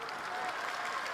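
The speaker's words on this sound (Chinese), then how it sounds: "这个掌声零零散散啊" Thin, scattered applause from a crosstalk audience after a performer from Beijing's Deyun Society introduces himself, a brief patter of clapping at a low level with a faint murmur underneath.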